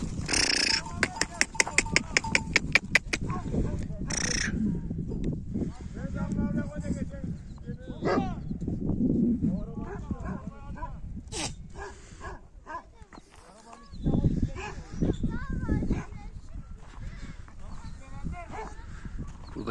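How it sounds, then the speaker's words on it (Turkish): A dog barks in a quick series of sharp yaps early on in the Handere village highlands of the Keşiş Mountains, Turkey, then talking and outdoor rustling continue with occasional faint sounds. "Şurada da bir köpek var."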